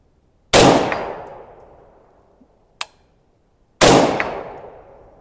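Two rifle shots are fired at a small target 100 yards out, each a sharp, loud crack with a long decaying tail about three seconds apart, and a faint metallic clink lands between them.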